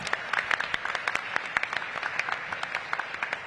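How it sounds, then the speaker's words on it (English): An audience at a city budget forum claps, a moderately sized crowd giving brief, even applause heard from a little distance, with a faint voice underneath. "Give them a big round of applause."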